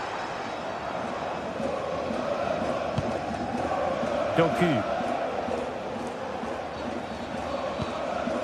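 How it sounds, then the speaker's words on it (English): A football stadium crowd in a video game roars steadily under a commentator's voice, swelling briefly with a surge of cheering partway through. "Well, just listen to this crowd."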